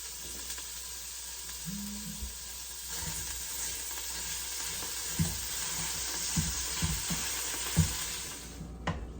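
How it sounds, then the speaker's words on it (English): Grass-fed beef browns in a pot. A steady soft sizzle runs throughout, with a wooden spoon making occasional scraping and knocking sounds as it stirs, close and fairly quiet. "we're going to use a wooden spoon to kind of get this browned up here"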